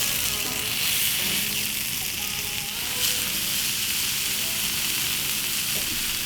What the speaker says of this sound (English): I've got a hot grill plate here, I'm going to add some oil. Just brush that so I've got an even coating. And on go my burger patties.